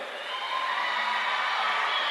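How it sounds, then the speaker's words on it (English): High school boys basketball crowd at a Show Low Cougars home game cheering during starting lineup introductions, a loud sustained roar of shouts and whoops filling the gym. "Oh, you can hear that crowd going."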